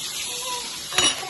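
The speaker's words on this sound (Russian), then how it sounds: "Вот тем временем, как видите, рыбка тоже у нас жарится." Onion and perch fry in a pan with soft, steady sizzling, then a brief sharp clink of a utensil against the pan near the end.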